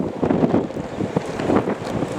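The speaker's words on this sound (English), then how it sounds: "Very windy day in Duxford." Gusty wind buffets the microphone at IWM Duxford in a steady low rumble that swells and eases, with no voices.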